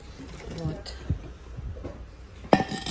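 Branded cookware pots being handled, with scattered metallic clinks and clanks and a sharper knock near the end, under someone speaking nearby.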